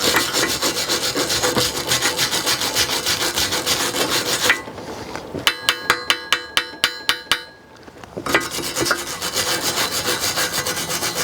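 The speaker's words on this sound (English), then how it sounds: "We'll take our brush and clean that up a little bit." A wire brush scrubs a small flux core weld made with a 110 VAC welder: loud, rapid rhythmic scraping close up, broken by a brief burst of sharp taps before the scrubbing resumes.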